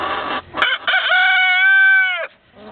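A rooster among hens crows a long, loud cock-a-doodle-doo close by, with a held, strained final note, preceded by brief clucking.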